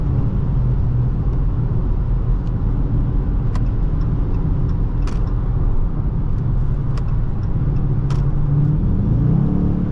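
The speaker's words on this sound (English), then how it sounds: "The ZF8 transmission works beautifully, blipping the gears." A 2021 Dodge Charger R/T with a ZF8 automatic heard from inside the cabin, a steady loud engine rumble and road drone punctuated by a few brief sharp clicks.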